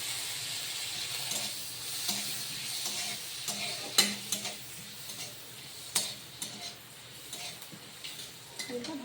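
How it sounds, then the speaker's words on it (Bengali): Whole black peppercorns, cinnamon, cardamom and chopped garlic fry in a pan for chicken stew, with a continuous soft sizzle and hiss broken by several sharp spatula scrapes and knocks. "হালকা একটু ভেজে নিয়ে তারপর কেটে রাখা রসুন কুচি"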